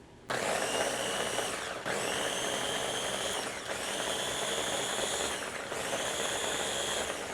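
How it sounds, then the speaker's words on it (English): A Ninja blender whirs through tomato marinara sauce, a loud continuous motor roar with brief dips every couple of seconds, close up and alone without talk. "Going to go ahead and attach the Ninja motor and let her fly."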